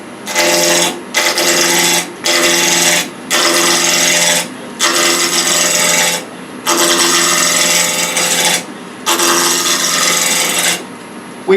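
Wood roughed out on a woodturning lathe, loud rasping cuts of the gouge in about nine bursts of roughly one second each, separated by brief pauses, with no talking.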